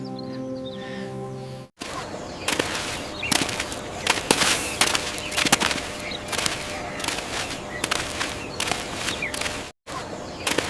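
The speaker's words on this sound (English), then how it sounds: "Wake up, the birds are calling us." Birds chirp and call steadily in a lively chorus, sharp repeated notes close by, after a brief opening of a different tonal sound.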